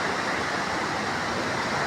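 Steady, powerful roar of water rushing through the opened gates of the Harike Pattan headworks, continuous and loud with nothing else audible.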